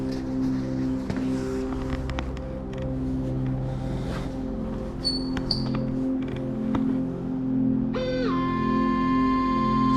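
Nike Adapt BB 2.0 self-lacing basketball shoes tighten with a soft mechanical motor whir under steady background hum, ending in a brief rising electronic tone near the close.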